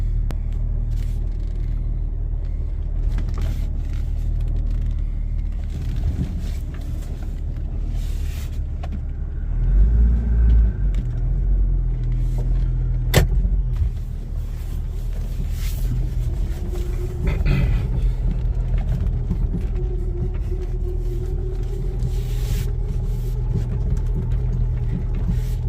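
A Jeep TJ drives around slowly at night with a low, steady engine rumble and the faint rattle and creak of the cabin, with no talk.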